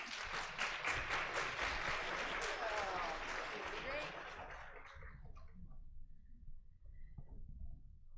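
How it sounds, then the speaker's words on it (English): Audience applause fills a conference hall at an epilepsy wellness event, dense and steady for about five seconds before fading into scattered claps and room murmur. "So please join me in welcoming them to the stage with some applause"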